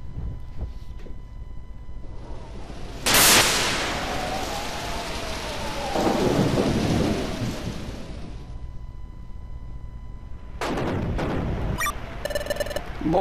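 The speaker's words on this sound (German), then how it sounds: "Sieht nach einem heftigen Gewitter aus heute Nacht." Steady heavy rain with crashing thunder bursts from a stormy night scene in the video game Pokemon Mystery Dungeon, rushing noise punctuated by sudden loud rumbling swells.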